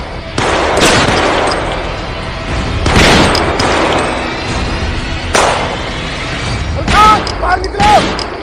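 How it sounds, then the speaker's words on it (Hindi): Several loud gunshots ring out at irregular intervals during a police encounter with a dacoit, some sharp and close, with voices and background noise of an action scene in between. "सर, अब गोली चलाने से कोई फायदा नहीं, मलखान तो भाग निकला।"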